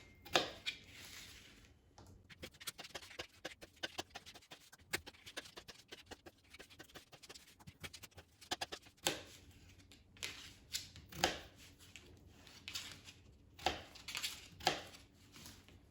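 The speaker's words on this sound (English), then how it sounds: "I cut the potatoes into quarters, and I cut each quarter into 4 parts." Kitchen knife slicing potatoes into quarters and then smaller chunks on a cutting board, producing a run of crisp, close chopping taps in an uneven rhythm with no talking.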